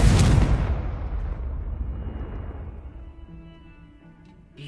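A loud Confringo blasting-spell explosion in Hogwarts Legacy bursts at once, then rumbles and slowly fades into quieter game ambience with faint tonal hum.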